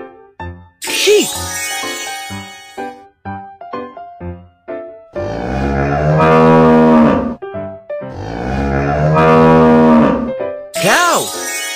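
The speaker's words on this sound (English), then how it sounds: "Cow!" A cheerful plinking jingle gives way to two long, loud cow moos, then a final short rising cry, with a toy-like electronic quality, from a children's panda school bus game hearing test.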